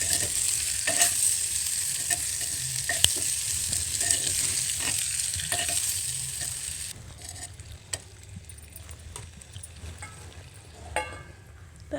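Prawn curry is stirred in a clay pot over a bright, continuous sizzle, with spoon knocks and scrapes punctuating it before the frying hiss quiets partway through.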